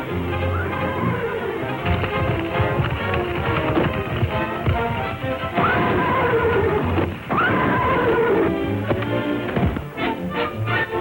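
A horse whinnies loudly several times over a full, dramatic music score, then hooves beat rapidly as it gallops off.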